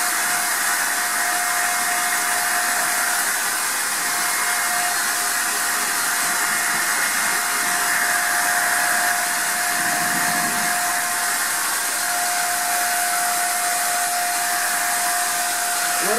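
A Wagner paint sprayer sprays a nano coating with a steady, loud hiss and whine. The sound runs unbroken and close for the whole stretch, with no talking.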